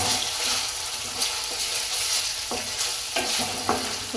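Onion paste fries loudly in a pan for a masala brinjal curry, with a steady sizzle broken by repeated scraping stirs and no talking.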